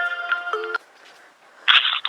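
Brief electronic phone tones, a short melodic ringtone burst, a pause, then a brighter buzzing ring starting again.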